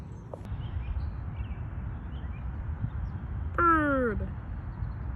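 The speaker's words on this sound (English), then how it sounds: "That's a nice birdie." A single bird calls once outdoors during a nature walk, a short harmonic squawk like a crow's caw rising clearly above steady background noise and wind.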